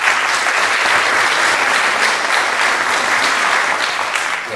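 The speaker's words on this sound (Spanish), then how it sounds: "Un aplauso, por favor" A crowd at the Peru Canta y Baila 2010 song-and-dance event breaks into loud, sustained applause, a thick continuous wash of clapping with no talk over it.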